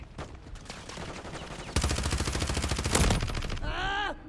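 Rapid bursts of automatic gunfire from a Modern Warfare III multiplayer match, dense and loud, ending in a sweeping electronic whine.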